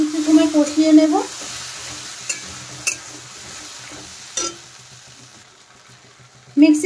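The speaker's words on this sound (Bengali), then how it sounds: "সেই মশলাটা এখন কিছু সময় কষিয়ে নেব" Paste of cashew, ginger and green chili with yogurt masala fries and is stirred in a pan for a vegetarian cauliflower roast, loud sizzling at the start, then a softer hiss with occasional scrapes and clinks, flaring again at the end.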